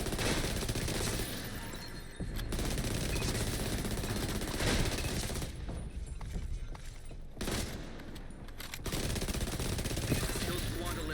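Sustained bursts of rapid automatic fire from a tactical MK16 rifle in the shooter game The Division 2, loud and dense with brief pauses between strings, a voice talking underneath.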